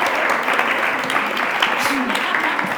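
An audience at a literary reading applauds in a sustained, dense burst of clapping that fills the room, with voices talking faintly beneath it.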